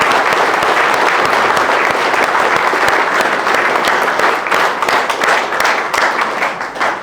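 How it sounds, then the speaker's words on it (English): Loud, dense applause from a crowd at a shore angling international event, sustained clapping that fills the whole stretch without a break. "So a round of applause to everybody."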